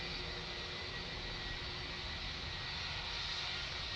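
Steady, quiet, distant jet engine noise comes from a Lufthansa Airbus A321 departing Manchester Airport for Frankfurt, an even roar without a break or any voices.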